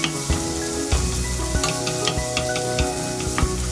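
Chopped white onion sizzles in a pan for pumpkin soup, a continuous close fry punctuated by regular sharp knocks and scrapes of a spoon stirring against the pan, no voices.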